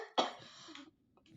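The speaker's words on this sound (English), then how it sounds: "stupid cough" One sharp, close cough bursts out, followed by a short rasp trailing into quiet, with a small throaty noise near the end.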